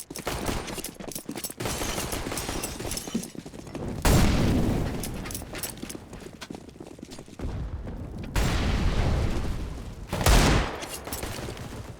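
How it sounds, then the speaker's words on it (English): Gunfire during a competitive Counter-Strike match on the Vertigo map, with Desert Eagle pistol shots among repeated loud bursts and continuous in-game clatter, with no talk over it. "That Deagle opens up Andrew's brains."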